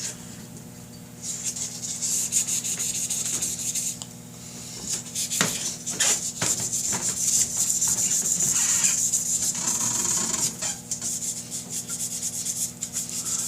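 Sandpaper of 600 grit rubbed by hand over damaged motorcycle bodywork, giving a steady close scratchy rasp with brief stroke bursts, over a constant low hum.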